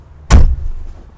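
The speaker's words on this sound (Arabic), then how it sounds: "حتى صوت قفله الباب يا جماعه ناشفه كده، ناشفه" The door of a 1966 Mercedes 200D shutting with a single solid, dry thud close by, followed by a short fading low rumble.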